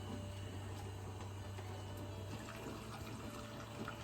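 Hot pickling brine of salt, water and vinegar, brought to a boil, is ladled into canning jars, giving a soft, steady liquid pour and trickle over a low background hum.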